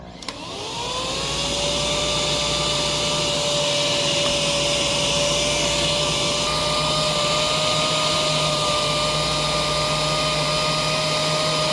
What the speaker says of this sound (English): So, again, we'll start in low speed.